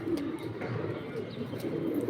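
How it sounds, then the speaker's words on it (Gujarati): Pigeons coo steadily and close by from a friend's flock on a building complex in Rajkot. The low, throaty calls overlap continuously with faint ambient noise. "અહીંયા કણે આપડા ભાઈબંધ ના કબૂતર છે"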